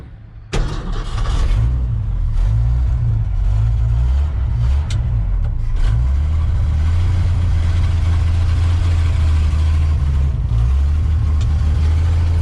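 A Ford Galaxie's engine cranks and catches, then settles into a loud, steady low rumble at idle, heard up close with a few small knocks in the background.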